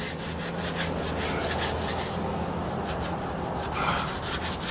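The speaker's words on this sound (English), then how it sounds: "just sand it back and forth all the way across your line." Sandpaper rasps back and forth over dried joint compound on a patched drywall hole, making a continuous, close, loud scratchy scrubbing in steady strokes with no talking.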